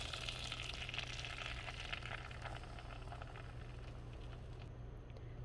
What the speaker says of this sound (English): I'm gonna melt some butter.